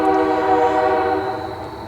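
A train passes close by a parked car, its horn sounding a loud, sustained chord of steady tones over rumbling rail noise that eases slightly toward the end.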